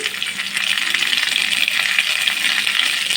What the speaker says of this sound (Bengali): আলুগুলো দেওয়ার পরে একটু নাড়াচাড়া করে নিতে হবে।